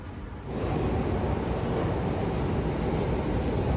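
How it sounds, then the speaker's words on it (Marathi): A metro train rumbles into the station with a loud, steady roar that begins abruptly and continues without pause. "आणि आली मेट्रो"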